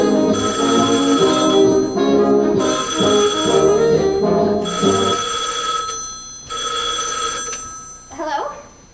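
A telephone bell rings in a guest-house interior in repeated long bursts with short pauses between them, fairly loud and close, while voices talk underneath and a brief rustle follows the last ring.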